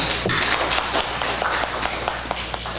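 Congregation in a church service clapping their hands together, a dense run of irregular claps filling the room at steady loudness with faint voices mixed in.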